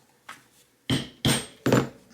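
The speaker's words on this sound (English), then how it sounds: "so you see, punched these holes through" A punch is hammered through leather for a knife sheath: one faint tap, then three sharp, loud strikes at even intervals, close by with no talking.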